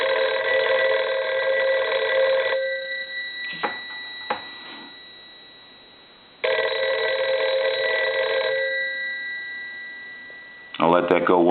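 A Western Electric 302 desk telephone, plugged in after a bell-circuit repair, rings in two long, loud bursts separated by a pause with a few sharp clicks. A brief voice follows at the end.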